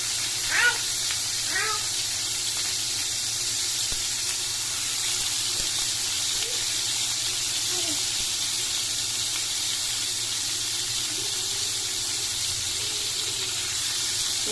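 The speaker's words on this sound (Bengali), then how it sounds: "এইভাবে আমি প্রত্যেক কটা হালকা ফ্রাই করে নেব।" Prawn seekh kebabs frying in oil give off a steady loud hiss and sizzle throughout, with a few faint high chirps and pops scattered over the constant frying noise.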